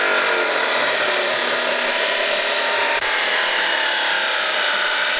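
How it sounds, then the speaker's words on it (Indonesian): A machine saw cuts through confiscated firearms and sharp weapons, a loud continuous grinding whine of blade on metal running without pause, with a brief dip midway. "dimusnahkan dengan cara dipotong menggunakan gergaji"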